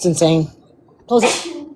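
A single sharp sneeze bursts out between bits of nearby talk, with a person speaking just before it.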